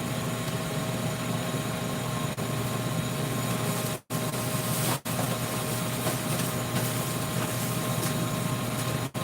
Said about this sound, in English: That noise you hear in the background is my air fryer.